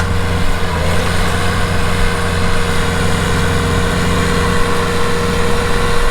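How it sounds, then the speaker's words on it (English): A farm tractor's engine runs steadily and close by while the hydraulics are worked, a loud, even low rumble with a constant drone and no talking. "second attempt at closing up the hydraulics here, bringing the tractor back."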